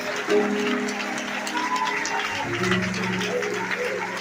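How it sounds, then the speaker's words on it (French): Congregation clapping in a Haitian church during choir worship, steady rhythmic hand claps blended under sustained singing voices. "Applaudissez le Seigneur."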